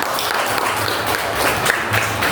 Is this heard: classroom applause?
yes